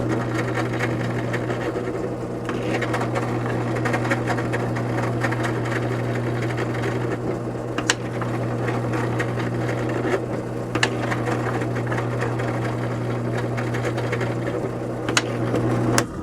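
A drill bores holes into a PVC fountain part for a DIY pond fountain pump, a steady close motor whine with a buzzing tone and occasional sharp clicks, continuous and without speech.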